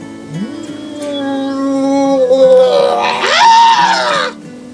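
A voice imitates a long, wavering howling scream, rising and falling in pitch for several seconds, loud and close.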